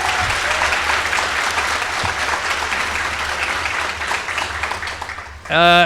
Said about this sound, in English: let's give an appropriately enormous round of applause to Jesse Klein for orchestrating yesterday's reception and today